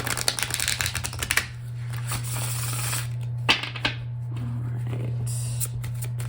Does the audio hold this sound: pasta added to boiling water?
no